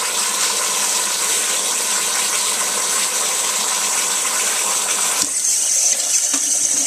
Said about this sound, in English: I'm going to fill the pot up pretty good.